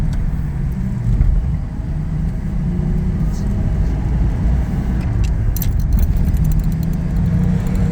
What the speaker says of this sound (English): What you're hearing are the keys hitting the dash.